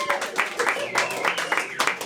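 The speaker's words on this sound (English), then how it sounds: "Give him a round of applause." A comedy-show audience in Winter Haven applauds and cheers as comedian Joe Lemons comes onto the stage, with bursts of clapping mixed with voices and whoops.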